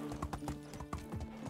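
A horse's hooves clip-clop at a steady walking pace in a video game, close and clear, with a faint whinny and no talk over it.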